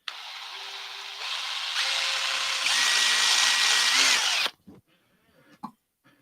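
A power drill whirs steadily at close range for about four seconds, its pitch rising in steps, then cuts off abruptly, leaving a few faint knocks.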